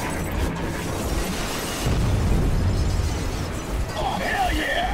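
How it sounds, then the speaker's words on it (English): Booming explosions in the video game Metro Exodus rumble and crash in a dense, continuous burst, with a voice talking over the chaos. "Explosions!"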